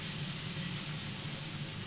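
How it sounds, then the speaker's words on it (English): Steady, dense sizzling hiss of dark meat chicken cooking on a Korean BBQ grill over high heat, close and continuous with no voices. "Look at that sizzle coming out."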